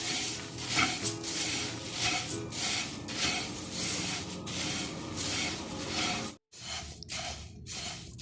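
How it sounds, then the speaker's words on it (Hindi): Rice grains are dry-roasted in a pan for a sweet crispy Marunda snack, giving a close, steady rattling sizzle with rhythmic stirring scrapes, then a brief silence before the stirring resumes more sparsely. "सबसे पहले हम चावलों को भून लेंगे, थोड़ा सा हल्का सा इसको सेक लेंगे ताकि इसमें क्रंचीपन आ जाए"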